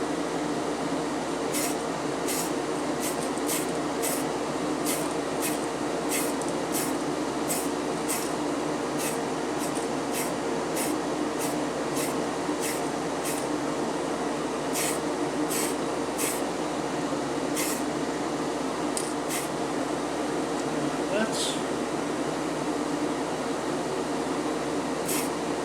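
Spray paint is applied in light coats to a Tamiya Dark Impact DF-03 RC car body, a steady hiss of rapid short bursts over a constant background hum, close and continuous with no talking.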